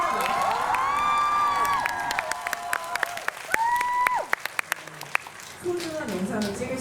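An audience at a film premiere talk event claps in scattered, uneven bursts with some cheering, while voices keep talking over the applause.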